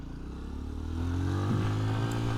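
A Honda XR150L motorcycle climbs a hill in what may be second gear, its engine note rising steadily and growing louder over a couple of seconds with a close, continuous drone.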